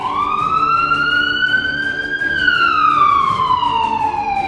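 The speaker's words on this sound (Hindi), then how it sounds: "इस वक्त सायरन बज रहे हैं।" An air-raid siren wails over Sevastopol, its pitch rising slowly then falling, loud and sustained with faint background noise beneath.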